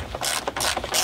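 A ratchet tightening Torx bolts on a BMW N52 oil filter housing, giving several rapid, crisp clicking bursts close up with no talk.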